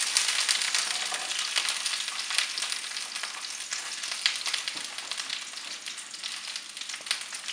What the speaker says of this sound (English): I'm going to start frying it now